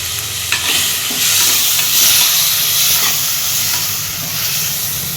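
Loud, hissing sizzle of onions and spices sautéing in a clay pot, with scraping stirs and occasional clinks of a utensil, close up and without talk.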